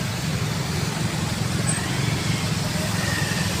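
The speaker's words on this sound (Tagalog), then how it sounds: "tingnan mo guys, yung mga sasakyan guys." Road traffic in Naga City, with cars and other vehicles moving through a crowded street, giving a steady low rumble of engines with no clear single pass-by and no talk.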